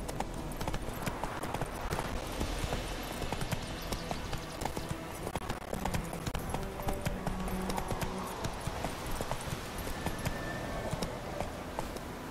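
Horse hooves trot in The Witcher 3 as a steady, rhythmic clip-clop on ground throughout, under a dense wash of game ambience, with faint speech at moments.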